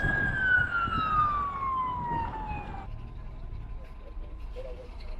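A fire engine siren passing on a street in Vietnam, a single falling wail that drops in pitch as it goes by and cuts off after a few seconds, under a background of traffic and crowd noise.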